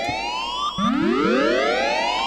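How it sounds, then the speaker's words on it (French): Siren-like wail from a contraption built in Minecraft: several loud, overlapping tones sweep upward one after another, starting a moment into the clip. No talking. "On dirait en plus, le bruit, c'est un truc de policier"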